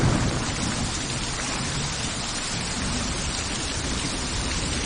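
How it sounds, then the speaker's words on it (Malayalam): Heavy rain pours down outdoors, a dense, continuous hiss close by with no breaks, steady from start to finish. "അതിവിടെ നല്ല മഴ, ഒന്നും കേൾക്കുന്നില്ല"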